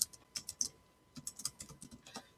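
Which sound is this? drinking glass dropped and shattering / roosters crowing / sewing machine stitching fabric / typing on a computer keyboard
typing on a computer keyboard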